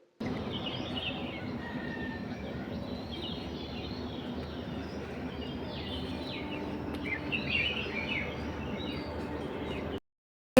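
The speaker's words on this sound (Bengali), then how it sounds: "অনেক পাখি ডাকছে, অনেক অনেক।" A dense chorus of many birds chirping and singing continuously, fairly distant, ending abruptly in silence.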